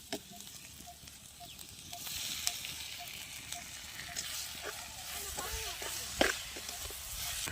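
Tomatoes drop into hot oil for cooking, and after a few quiet seconds a soft broadband sizzle swells and holds. Faint stirring scrapes and light taps sit beneath it, quiet and close.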